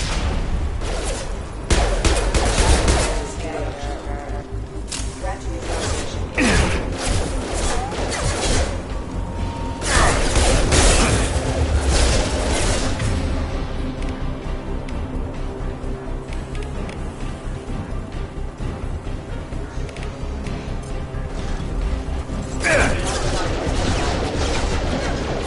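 Heavy sustained gunfire from security mechs in a video game, a dense, loud barrage of rapid shots with crashes and mechanical clatter running throughout, with brief voices heard under the din.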